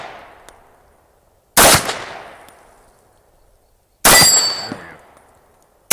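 Polish Tokarev PW wz.33 pistol firing 7.63 Mauser rounds, two sharp loud shots a few seconds apart, each with a ringing decaying tail, plus the start of a third at the very end.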